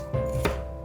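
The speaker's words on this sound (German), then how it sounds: "Eine halbe grüne Paprika in Stücke schneiden." A knife cuts half a green bell pepper into pieces on a board, giving two or three quick, close chopping knocks over a faint steady hum.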